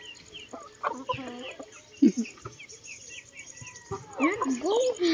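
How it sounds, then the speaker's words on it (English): Chicken clucking and crowing-like calls near a creek, several bursts of fowl sounds over the clip alongside people talking, louder and busier toward the end. "that's a brave chicken there"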